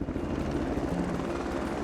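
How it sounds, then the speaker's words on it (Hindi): A helicopter's rotor beats in a rapid, steady thumping chop with a low drone, moderately close and alone with no talk. "ये हेलीकॉप्टर।"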